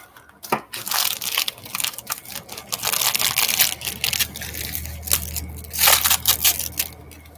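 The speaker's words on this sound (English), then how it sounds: "Uh-oh, I'm going to cut the lace." Scissors snip and crinkle through a roll of lace in irregular close bursts of rustling and crunching, with short pauses between cuts.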